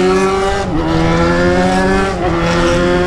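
A Yamaha XJ motorcycle engine revs loudly and up close, a steady throaty drone with slight pitch dips as the throttle shifts.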